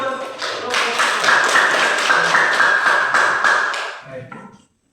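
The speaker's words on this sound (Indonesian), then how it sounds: "Tepuk tangan buat" Students in a classroom break into a burst of applause, loud and steady for about four seconds before fading out, near and lively.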